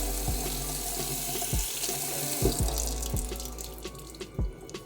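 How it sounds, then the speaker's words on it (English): A bathroom sink tap in a room at Disney's Grand Californian Hotel runs with oddly aerated water, a steady close rush broken by several low knocks and drips as it slowly trails off. "the sink water is a little odd"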